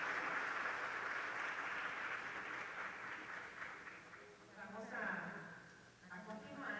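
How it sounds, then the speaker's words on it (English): An audience at a finance-for-development conference claps in sustained applause that gradually fades, while a voice speaks over the tail end. "a round of applause for both"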